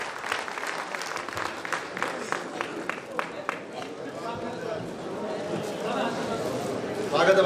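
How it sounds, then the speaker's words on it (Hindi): An audience under a pavilion tent at a Hindi poetry gathering (kavi sammelan) applauds a poet from Etawah, steady rapid clapping lasting several seconds, moderately distant, with a voice over it toward the end. "एक बार तालियां पूरा पंडाल बजाए उनके सम्मान में"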